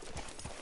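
Horse hooves clip-clopping in the Red Dead Redemption video game, a few soft, quick steps heard faintly in a brief moment.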